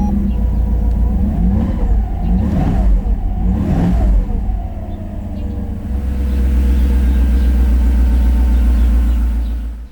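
A Mercedes SL500 under restoration cranks and fires after a long struggle, its engine rumbling deep and close, rising in a few revs before settling into a steady, heavy idle.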